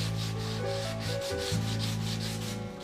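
Wooden guitar braces being finish-sanded by hand, a steady rhythmic rubbing with repeated back-and-forth strokes, close and continuous under a musical background, no speech.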